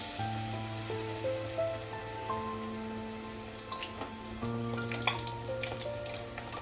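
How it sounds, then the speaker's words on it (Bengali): Prawns wrapped in bottle gourd leaves fry in hot oil with a soft, steady bubbling crackle and scattered pops, close and fairly quiet, with no one talking. "এইভাবে সবগুলো আমি ভেজে নেব"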